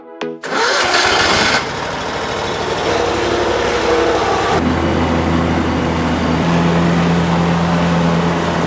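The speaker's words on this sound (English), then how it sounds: "Got the lawnmower stuck. Oh, poor lawnmower." A small engine roars steadily and loudly, a lawn mower running with a slight shift in pitch partway through, with no voices.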